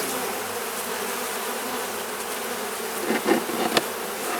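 Honeybees swarming around an open beehive, a dense continuous buzz close by, with a few louder passes of individual bees near the end and no talking.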